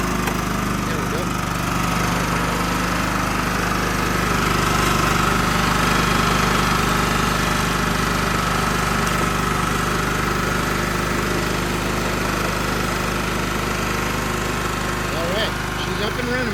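A 2007 John Deere L110 lawn tractor engine idles steadily nearby, a continuous loud chugging mechanical drone with a low hum throughout, while a person talks over it.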